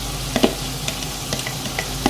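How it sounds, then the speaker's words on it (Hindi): Yogurt stirred into beef masala frying for biryani: a steady sizzle with a few light spoon scrapes and taps against the pot, close and without speech. "दही को अच्छे से मिक्स करना है जी।"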